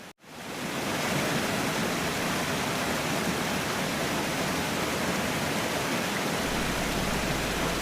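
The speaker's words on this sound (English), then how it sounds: "listened to the rushing waters" Steady, loud roar of rushing waterfall water in Namibia, a dense continuous wash of noise that holds constant throughout.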